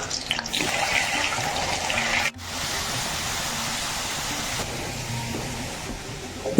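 Tap water runs continuously into a sink while diced potatoes are rinsed, with a brief break midway before the steady gush resumes, close and clear with no talking.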